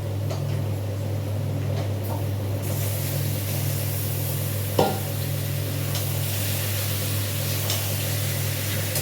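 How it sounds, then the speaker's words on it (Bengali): Chicken pieces go into a pan of frying onion, garlic and potato, and a steady close sizzle swells after a few seconds, broken once by a brief knock midway; nobody speaks. "এবার আমি এখানে চিকেনটা দিয়ে দেবো"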